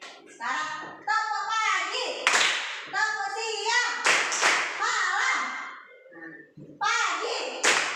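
Children in an Indonesian primary classroom clap along in a rhythmic clapping game, with sharp claps and taps interleaved with their sung and spoken chanting, loud and close.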